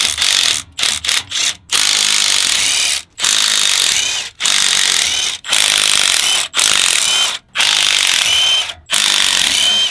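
Ratchet clicking rapidly in bursts while loosening the bolts on a truck's differential cover, loud and close, with short pauses between runs of ratcheting.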